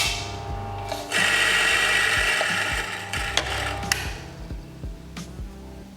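A burr coffee grinder grinding roasted coffee beans runs steadily for several seconds at close range, with clicking mechanical taps around it, then stops and leaves a few scattered knocks.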